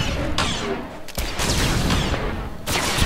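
An explosive rocket punch attack in the online game Star Wars: The Old Republic, a loud burst of booming impacts and crackling blasts that fills the whole moment, with brief dips between heavy hits.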